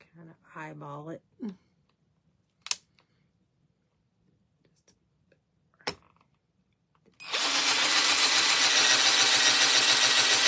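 After a few brief taps and a short murmur of voice, a power drill whirs on loudly and runs steadily to the end.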